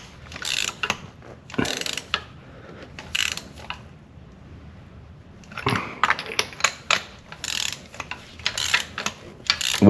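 Ratchet wrench clicking in short bursts while spark plugs are tightened into the aluminum head of a 2010–2014 VW 2.5 L engine, with close, crisp clicks in several clusters separated by brief pauses.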